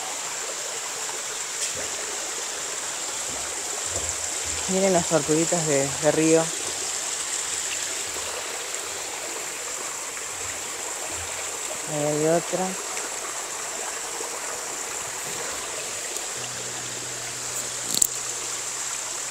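Small waterfall in a jungle river, a steady broadband rush of falling water running throughout at moderate level, with someone talking briefly over it twice.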